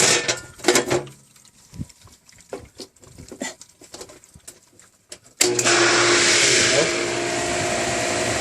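A residential pool sand filter pump kicks on in backwash mode, shifting from quiet handling noises to a loud, steady rushing whir of motor and water that holds for several seconds.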